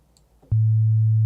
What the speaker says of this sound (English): So right now we have our pure sine wave